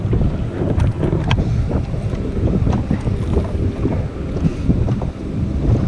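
Steady wind roars across a bass fishing boat on open water during summer crankbait fishing, a continuous broadband buffeting with microphone wind noise and no voices.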